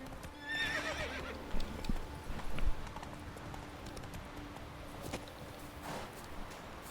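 Roach, a horse in The Witcher 3 video game, whinnies once near the start with a rising tremble, then hooves clop faintly along over a low ambient game background.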